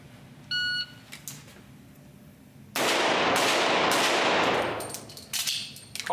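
IPSC pistol shooting stage at a world championship: an electronic timer beep, then a burst of loud, rapid gunshots with ringing echoes trailing off, followed by a few more shots near the end.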